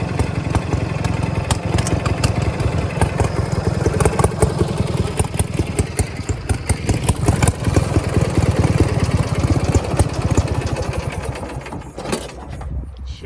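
An old tractor engine running after being revived, a loud, close, steady chugging idle with fast rhythmic firing and some mechanical clatter throughout, easing off slightly at the end.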